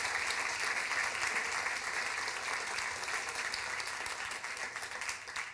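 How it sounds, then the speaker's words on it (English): Steady audience applause fills the room at a community talk event honoring a local collective, a dense, even wash of many hands clapping that holds for several seconds and eases slightly toward the end. "if you guys don't mind giving it a round of applause for the Healthy Community Collective"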